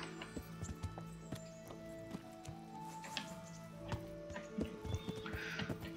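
A horse in a medieval role-playing game clip-clops along with repeated hoof strikes and a few whinnies, moderately near, alongside faint game ambience and no speech.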